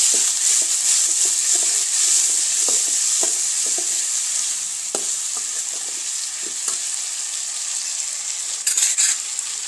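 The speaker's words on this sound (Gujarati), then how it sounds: "લીલા વટાણા, કોબી ને ફ્લાવર, ટમેટાં, સ્વાદ પ્રમાણે મીઠું ઉમેરી દઈશું. અને સરસ રીતે મિક્સ કરી લઈશું." Green peas, cabbage, cauliflower and tomatoes with salt and dried chili pieces stirred in a hot pan for a Kathiyawadi Gujarati dish, with steady close sizzling and repeated spoon scrapes and clicks throughout, no talking.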